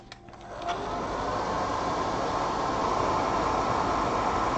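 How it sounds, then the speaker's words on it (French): A hair dryer blows to dry paint on a Star Wars Legion miniature. It starts up with a rising rush, then holds a loud, steady whooshing roar to the end. "Ah, vous devez bien l'entendre le sèche-cheveux maintenant."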